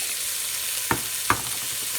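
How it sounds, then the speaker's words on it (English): Garlic and carrots sizzle in olive oil in a pan, a steady close frying hiss broken by two sharp stirring clatters, with no talking. "Stir constantly not to burn that garlic, because it really does give a horrible taste if it is burned"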